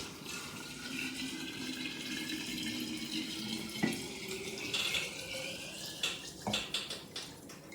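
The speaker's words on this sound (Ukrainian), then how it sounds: "тепер заливаємо все це спиртовим розчином нашим, який вже готовий" Alcohol solution poured over grapefruit and honey in a jar for a homemade infusion: a steady, soft liquid pour running close by for several seconds, then a few sharper clinks and splashes near the end, with no talking.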